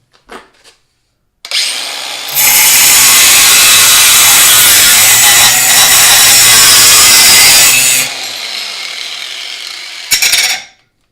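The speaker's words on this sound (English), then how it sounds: "Here's with a thinner metal cutting blade on just a regular piece of metal." A cordless Porter Cable 20-volt jigsaw fitted with a thin metal-cutting blade saws through an ordinary piece of metal. It gives a loud, steady, harsh buzzing rasp for about six seconds, with short quieter blade runs before and after and no talking.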